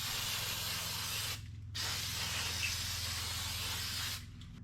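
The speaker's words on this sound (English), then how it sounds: "The one great thing about brake cleaner, other than its cleaning capabilities of oily substances" Brake cleaner hisses out of an aerosol can in two long bursts separated by a short pause, close and steady, with a low hum running underneath, in a garage where a 1951 Ford rat rod is being worked on.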